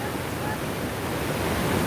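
Swollen Hope River at Gordon Town, St. Andrew, rushing after Hurricane Melissa: a steady, broad roar of fast water that holds constant and fairly loud throughout, with no other sound standing out.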